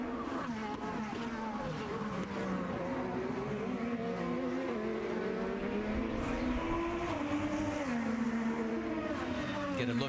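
IndyCar race cars lapping the street circuit at the St. Petersburg Grand Prix, a continuous engine roar rising and falling in pitch as cars pass, with a commentator talking over it.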